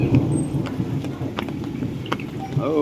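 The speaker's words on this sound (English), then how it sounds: "We're getting a lot of thunder and lightning." Thunder rumbles through steady rain during a tropical storm in the Philippines, a continuous wash of rainfall with low rolling booms and a few sharper cracks close by, no voices.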